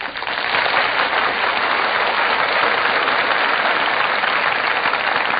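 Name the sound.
studio audience applause as radio cast enters stage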